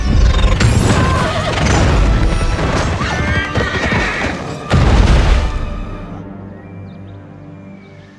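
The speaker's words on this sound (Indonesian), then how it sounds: "Pertarungan sengit di atas kuda pun terjadi di antara Jiva dan Chan Yu." A horse neighs loudly during a fierce mounted fight in an action film, with clattering hooves, crashes and booming impacts in a dense, loud mix before the whinny trails off into quieter sustained tones.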